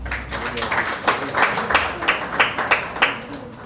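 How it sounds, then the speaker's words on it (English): A room of listeners at a Uganda Law Society address breaks into clapping, with rhythmic handclap peaks building across a steady bed of applause and a few voices mixed in. "I didn't expect you to clap."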